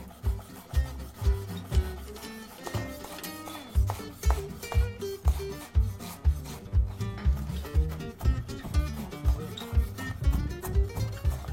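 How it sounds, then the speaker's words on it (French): A knife chops compressed parsley on a cutting board in a steady, rhythmic series of close, scraping strokes that continue throughout. "pour bien hacher le persil, vraiment bien le compresser comme ceci. Ensuite, on va appuyer notre lame contre l'herbe."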